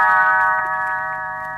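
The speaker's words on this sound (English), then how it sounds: "You will know it is time to turn the page when Tinker Bell rings her little bells like this." Little bells chime once as a page-turn signal in a read-along storybook, a bright ringing tone that decays slowly and sounds alone.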